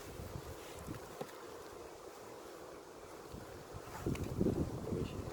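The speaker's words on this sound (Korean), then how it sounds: "바람이 불어서" Wind blows outdoors at a beekeeping apiary, a low rumbling buffet against the microphone that holds steady and then swells into stronger gusts near the end, with no speech.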